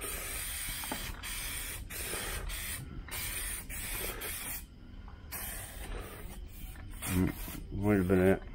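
Spray paint hisses onto car door panels for a 1977 Malibu Classic in repeated bursts separated by short pauses, close and fairly faint, with a voice speaking briefly near the end.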